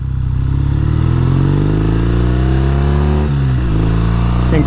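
A 1969 Triumph T120R motorcycle accelerating on a highway: a loud, close engine roar whose pitch climbs steadily, briefly dips at a gear change, then keeps pulling.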